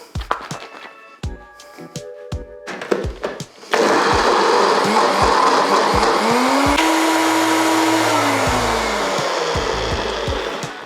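A food processor blends homemade hummus with a loud, continuous whirring roar that starts abruptly after a few light clatters and taps. The motor's pitch shifts as it runs.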